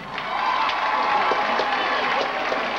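A crowd at a spring jamboree dance event in DeKalb County cheers and claps steadily, a dense wash of applause and shouting that fills the space, with voices calling out through it.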